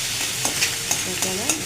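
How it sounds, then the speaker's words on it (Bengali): Onion, ginger, garlic and green chilli frying in leftover prawn-frying oil, a steady close sizzle with repeated scraping stirs of a spatula through the pan. "এটা একটু চিংড়ি মাছ ভাজা তেলটাতেই আমি দিয়ে দিচ্ছি পেঁয়াজ, আদা, রসুন, কাঁচা লঙ্কা"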